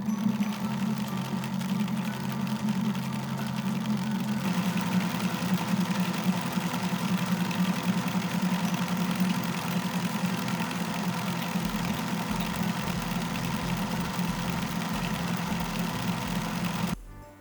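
A spinning wheel spins wool into slub yarn with a steady whirring, rhythmic mechanical hum held evenly at close range, then it slows and stops at the end.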